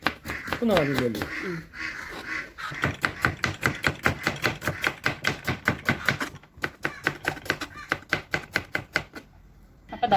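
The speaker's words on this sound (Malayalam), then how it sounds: "ഇതിപ്പോൾ മല്ലിച്ചപ്പാണ് അരിഞ്ഞെടുക്കുന്നത്" Rapid, even knife chops on a board chopping coriander leaves, a steady run of close, crisp strikes following a brief bit of speech at the start.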